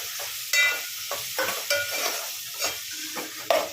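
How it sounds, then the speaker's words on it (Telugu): Goat tripe (boti) fries in oil with turmeric, sizzling loudly while a spoon stirs and scrapes the pan in several sharp strokes, with no talking. "బోటిని అయితే నూనెలో బాగా ఫ్రై కావాలండి."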